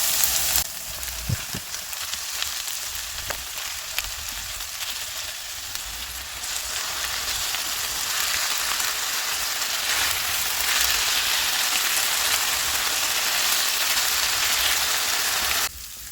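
Loud, steady sizzling and crackling of minced meat frying in a hot pan over medium heat, continuous and close with no talking.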